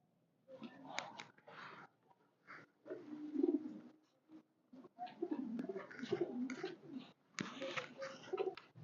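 High-flyer pigeons coo in soft, low, repeated calls near a loft, broken by rustling and small movements, with faint talk here and there.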